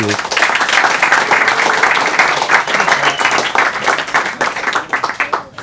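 Sustained, dense applause from an audience at a music college master class at BPM College in Tel Aviv, loud and steady clapping that fills the whole stretch before tapering slightly near the end.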